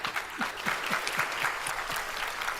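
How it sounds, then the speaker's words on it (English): Clapping and applause on an online video call from a small group, scattered and slightly tinny, lasting the whole moment at moderate level. "And of course, with Patricia on, we get the full Monty of the clapping"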